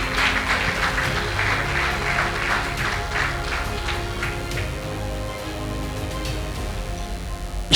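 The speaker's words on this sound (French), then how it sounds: "merci d'applaudir très fort pour les accueillir" Audience at a gala award ceremony clapping as guests are called up to receive trophies, a sustained crowd of hands applauding at moderate level, thinning slightly toward the end, with some music or background tones underneath.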